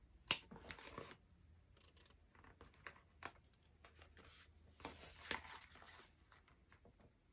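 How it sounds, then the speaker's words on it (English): Sharp scissors trimming the middle section of a coffin-shaped wallet: a string of close, crisp snips and cutting strokes in uneven bursts, with light handling rustle between them and no talk. "now I need my super sharp scissors, and I'm going to trim up this middle section here"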